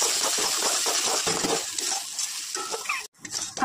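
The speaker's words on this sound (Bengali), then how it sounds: "নাড়াচাড়া করে ভুনে নেব।" A spice paste is stirred and fried in a pan with a spoon, giving a close, loud sizzle broken by rhythmic scraping strokes and a brief pause before the frying resumes.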